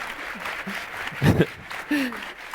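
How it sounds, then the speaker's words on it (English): Audience applause at a Women in Tech forum on tech evolution, a short burst of clapping that swells briefly in the middle over room noise, with some talk around it. "Round of applause."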